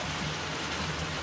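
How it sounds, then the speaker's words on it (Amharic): Steady rain falls in daytime, a dense, even hiss of drops on surfaces with no talk, continuous and fairly loud throughout. "አይታይም ግን ዝናቡ የቃቃ ነው።"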